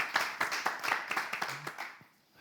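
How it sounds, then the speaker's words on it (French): Small group clapping to see a guest off, a handful of distinct hand claps in loose rhythm, moderately near, fading out after two seconds. "On va la raccompagner avec des applaudissements."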